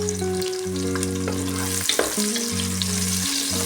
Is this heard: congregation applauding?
no